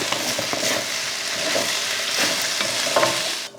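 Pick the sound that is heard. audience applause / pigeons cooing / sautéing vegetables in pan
sautéing vegetables in pan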